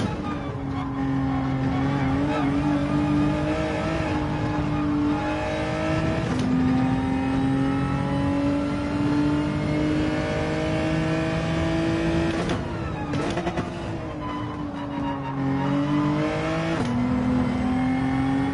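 A race car engine in Gran Turismo 7 revs loudly and short-shifts repeatedly, its steady drone climbing and dropping with each gear change, and light tire squeal in places.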